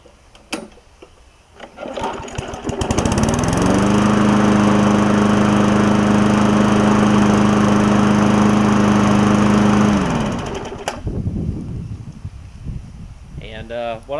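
A Weed Eater push lawn mower engine, freshly fitted with a new spark plug and carburetor diaphragm, starts with a few pulls, then revs up and runs steadily at a loud, even drone for several seconds before winding down.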